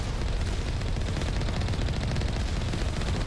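Heavy turret gunfire in Mass Effect, a dense, loud rapid-fire rumble of automatic shots and impacts pounding continuously without pause.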